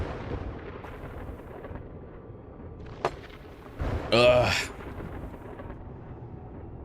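Storm thunder in the survival video game 7 Days to Die: a sharp crack near three seconds, then a loud rumbling boom around four seconds, over a steady noisy bed with a brief groan from a voice.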